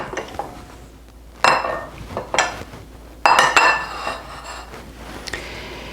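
Bowls and dishes clink and knock against a kitchen counter as three are set out for schnitzel breading, several sharp close ceramic and metal hits spaced irregularly with quiet gaps between.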